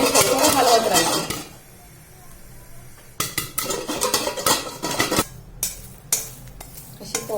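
Salted popcorn kernels pop and rattle inside a covered pan being shaken without oil, producing bursts of loud metallic jostling followed by a quieter stretch and then scattered sharp pops and clinks up close.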